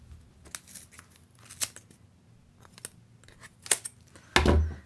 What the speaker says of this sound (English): you can just slide your scissors right in